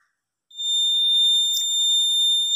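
A rain detector buzzer gives a steady, high-pitched electronic tone continuously after a brief silence, loud and close, with a short click partway through.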